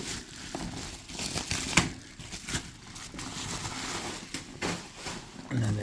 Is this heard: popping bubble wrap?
yes